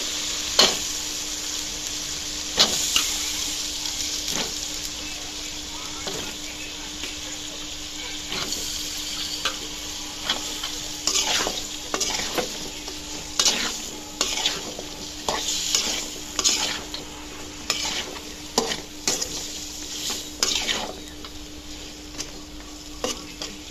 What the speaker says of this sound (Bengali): আমি এখন আলু সিমগুলো দিয়ে দিব।